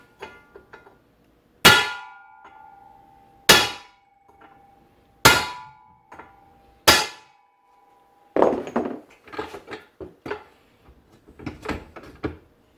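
Four sharp metallic clangs of a hammer striking a punch while driving out a U-joint cross, each ringing briefly, followed by a flurry of quicker, duller taps and scraping metal.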